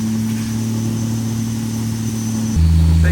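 A 2JZ-swapped BMW E36 on a dyno holds a steady, loud engine drone with its exhaust, then steps abruptly to a new pitch as the revs change near the end.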